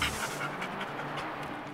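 A disaster search and rescue dog pants quickly and steadily up close, soft breathy rhythmic huffs with no talk.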